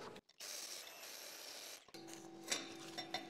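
Slag being chipped and brushed off a 6010 weld on AC, a sustained scraping, rasping scrub followed by a few sharp taps and clicks of metal on metal, close and fairly quiet.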